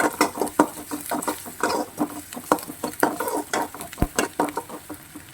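Drumstick leaves and other kootu ingredients are sautéed in a pan, with loud, busy scraping and stirring strokes in a quick uneven rhythm over a crackling fry, close by and with no talking.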